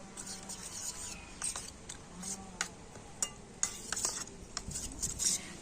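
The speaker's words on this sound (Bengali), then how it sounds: "এবারে আমি কর্নফ্লারের মধ্যে অল্প একটু জল দিয়ে দিচ্ছি তো জল দিয়ে এটা কিন্তু খুব ভালো করে আমি গুলে নেব" A spoon stirring cornflour into a little water in a bowl, giving light scraping clinks and taps that come close together at an uneven pace, loud and near, with no talk over them.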